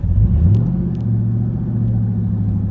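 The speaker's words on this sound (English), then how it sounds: "look, we're revving it up" A car engine with a failing fuel pump revs and then settles into a rough, low droning hum that wavers unevenly, loud and close, with no talking over it.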